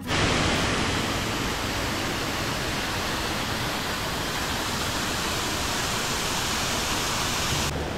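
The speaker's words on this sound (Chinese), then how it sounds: "左边就是雷音瀑布，有好多层哦" Multi-tiered Leiyin waterfall on Meishan's Zhukeng Creek trail gives a continuous broadband rush of falling water, loud and near, holding steady throughout without speech.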